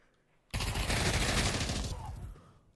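Automatic weapon fire from CS:GO played in virtual reality comes as one loud, sustained burst of rapid shots lasting nearly two seconds and then cutting off.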